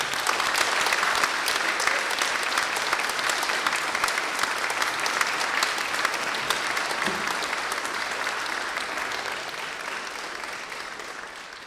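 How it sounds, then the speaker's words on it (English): Graduates at a Bath Spa University winter graduation ceremony stand and clap for their supporters, producing a sustained, dense wall of applause that fades slightly toward the end. "give them a big round of applause"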